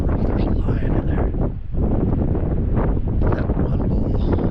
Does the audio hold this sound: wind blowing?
yes